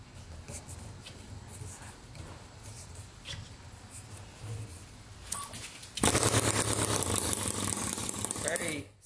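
A homemade internal combustion engine built from an old compressor fires up after quiet handling noises, running loudly with a rapid, rough chatter for about three seconds before cutting out.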